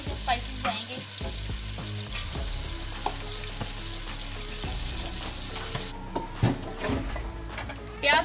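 Onions sautéing in a pan for kadhi pakora, a steady broadband sizzle running throughout with occasional clinks and stirring scrapes, loud and close, with a brief voice near the end.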